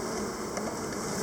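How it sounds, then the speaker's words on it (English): Honey bees buzz around a swarm being captured, forming a steady, dense hum that fills the air evenly without breaks and stays fairly faint. "there's a lot of bees all over the place here"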